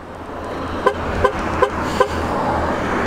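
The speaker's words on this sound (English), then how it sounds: "I'm gonna go ahead and hit the lock button here, let y'all hear the horn." A Ford Raptor SVT pickup sounds its horn as the remote lock is pressed: four short, evenly spaced toots at moderate volume, close by, over faint outdoor background noise.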